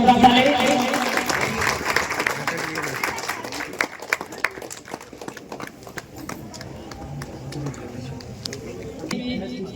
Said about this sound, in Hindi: एक बार बच्चों जोरदार ताली।